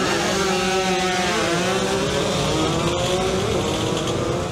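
Four Honda NSR scooters revving hard at a drag race start in Thailand, loud buzzing two-stroke engines, several overlapping pitches rising and falling together, close and continuous.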